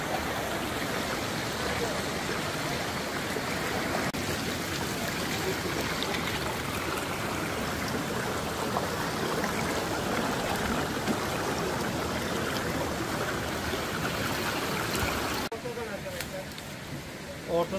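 Ice-cold stream rushing through a canyon on a trekking route, a continuous close wash of flowing water that shifts and thins near the end, with hikers talking over it.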